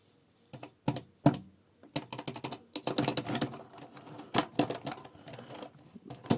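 Rapid keyboard typing up close, bursts of clacking keystrokes with brief pauses, no voices.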